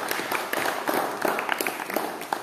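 A class claps for group 1 in a classroom, giving a dense, steady patter of many hands for a couple of seconds, fairly close and with no talking.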